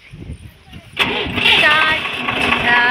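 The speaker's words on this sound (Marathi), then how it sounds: "ट्रॅक्टर वाले आता तयारीत आहेत ट्रॅक्टर चालवायला" An engine cranks and catches about a second in, then runs steadily and loudly with a rough mechanical rumble, while people talk nearby.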